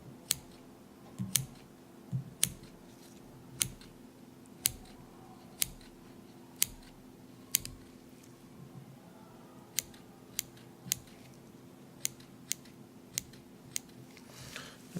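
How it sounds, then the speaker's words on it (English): Small scissors make tiny, sharp snips around a pig's umbilical cord, cutting just the top layer of skin during a surgical procedure; quiet, crisp clicks come one at a time in a loose, irregular rhythm over a low steady background hum. "And now you have to go around the umbilical cord, just staying at the top layer of skin, making tiny little snips."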